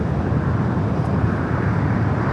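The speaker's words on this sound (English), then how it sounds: "The Dreamliner heading back to Tel Aviv" Boeing 787 Dreamliner taking off from Los Angeles International Airport, bound for Tel Aviv: a steady, broad jet roar that holds evenly throughout, with no voices over it.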